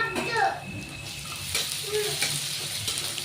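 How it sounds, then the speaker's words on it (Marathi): Peanuts frying with onion and green chillies in hot oil for kanda poha, a steady close sizzle with occasional stirring scrapes, under someone talking quietly. "आधी शेंगदाणे घालू त्याच्यात. ते शेंगदाणेही परतून घेऊ मस्त."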